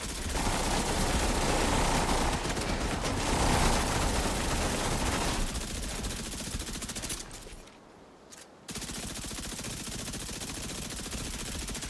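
Rapid automatic gunfire in the shooter game The Division 2, a dense, loud, continuous crackle that thins out briefly before cutting back in at full intensity.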